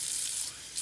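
Tap water running steadily into a plastic dye bottle for tie-dye, a close hissing gush that briefly softens before swelling again.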